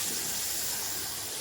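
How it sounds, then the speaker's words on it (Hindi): Water is poured into chicken methi masala cooking in a pan, making a brief, steady hissing rush. "थोड़ा सा पानी ऐड कर देंगे,"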